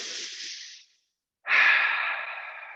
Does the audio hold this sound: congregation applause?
no